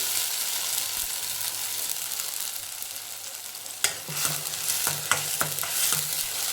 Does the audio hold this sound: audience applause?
no